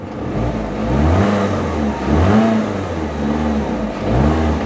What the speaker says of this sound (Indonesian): kalau mesin mah nggak kasar, cuman emang getarannya masuk banget ke dalam kabin ya kalau pasang AC